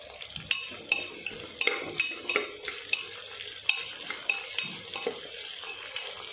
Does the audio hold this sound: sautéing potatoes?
yes